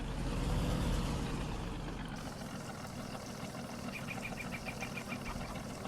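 A Fendt tractor in a farming video game: a steady engine rumble and drone, louder at first and then settling to an even, continuous running sound, with no talking.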